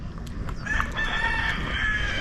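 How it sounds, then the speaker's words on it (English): Roosters and chickens on a farm give a long, drawn-out crow that starts partway through and carries to the end, over a few short clucks and a steady low background. "there's chicken and roosters, they're climbing up on stuff and animals jumping around"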